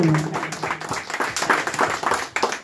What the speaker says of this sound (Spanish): El aplauso bien bonito, sí señor.